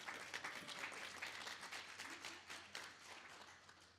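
A meeting audience gives a brief round of dense, steady clapping, fairly faint and heard on its own.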